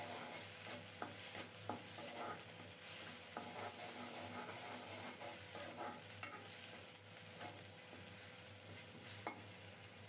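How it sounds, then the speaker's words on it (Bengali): Spice paste frying and being stirred in a pan for a Bengali greens dish, a soft steady sizzle with scattered light scraping taps, faint and continuous, no voices. "এবার মশলাটাকে অল্প কিছুক্ষণ কষিয়ে নেব বেশিক্ষণ কষাতে হবে না"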